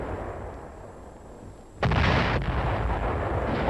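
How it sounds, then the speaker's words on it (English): A howitzer fires rounds in Korea, with one sudden, heavy booming blast that cuts through a low rumbling background and leaves a loud, sustained roar. "a lonely howitzer somewhere in Korea lobbing out a few rounds to take care of an enemy"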